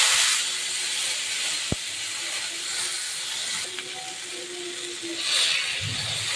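Vegetables fry on a hot tawa in a steady, loud, even sizzle that stays unbroken throughout, marked by one sharp click and a faint hum near the end.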